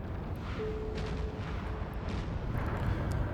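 Deep rumbling explosions roll continuously as ships are destroyed in EVE Online space combat, a dense low booming wash with a faint tone briefly threading through it.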